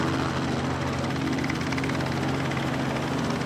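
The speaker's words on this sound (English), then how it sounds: "I'm assuming this is your first virtual reality flight on one of our helicopters" A helicopter in flight during a virtual reality offshore oil and gas experience, a steady droning rotor and engine hum that runs loud and unbroken throughout with no voices.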